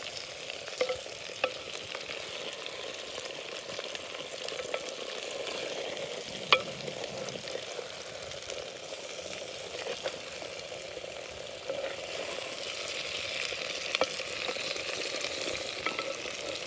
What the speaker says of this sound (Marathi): आता शिरवली भरलेली एकदम हलक्या हाताने मी खाली वर करून घेते